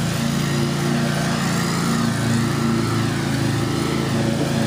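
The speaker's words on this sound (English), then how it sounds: "the lawnmower got really close, so it got extremely loud" Stand-on, ride-behind lawnmower running very close by, its steady engine drone loud and continuous throughout with no pauses or talk.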